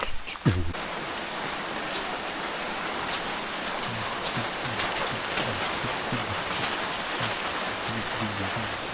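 Heavy rain pours steadily in a Konkan village, a dense continuous hiss of water with low burbling underneath, close and unbroken for the whole stretch after a brief knock at the start.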